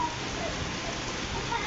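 Heavy rain pours down in a dense, steady hiss that stays constant throughout, close and fairly loud with no clear gaps.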